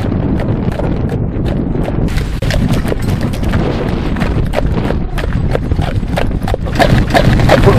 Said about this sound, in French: Petit trot.